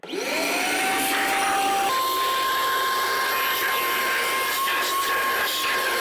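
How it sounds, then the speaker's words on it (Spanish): A vacuum cleaner spins up and whines steadily while sucking debris from inside a Stanley SST1801-B3 table saw with its blade removed, a loud continuous drone with faint rattles. "pueden utilizar una aspiradora como estoy haciendo yo y colocar la manguera en la parte de atrás"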